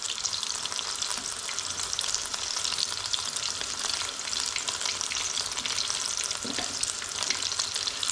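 Fish pakora frying in hot oil, a dense, continuous crackling sizzle that stays loud and close throughout with small popping bursts.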